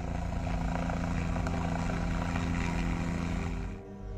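Helicopter flying over dense forest during a military search operation for militants in Poonch, Kashmir, its steady loud rotor and engine drone continuous throughout before easing slightly at the end.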